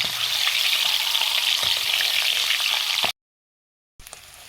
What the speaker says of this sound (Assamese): কণীকেইটা ফ্ৰাই কৰা হৈ গ'ল।